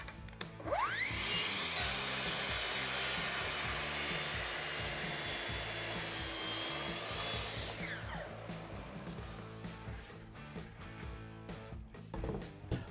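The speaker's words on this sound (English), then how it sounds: "Clean up this edge of the piece of plywood and then we can cut everything to length." A track saw cuts along a guide rail to clean up the edge of a plywood piece for a mudroom cabinet, a loud steady high whine lasting about seven seconds that spins down, followed by quieter shop noise.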